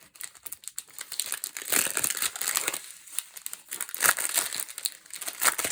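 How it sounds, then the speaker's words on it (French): Plastic packets of diamond painting drills are torn and opened up close, giving busy crinkling and rustling with small rattling bursts that come in waves, with no voices. "Alors, je vais vous ouvrir les diamants."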